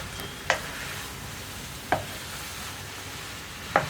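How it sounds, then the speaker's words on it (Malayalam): Avial, a Kerala mixed vegetable curry, being stirred in a pot, with a soft bubbling sizzle beneath three sharp spoon clinks against the pot at regular intervals. "ഇനി നമ്മുടെ അവിയലൊന്ന് ഇളക്കി മിക്സ് ചെയ്യാം."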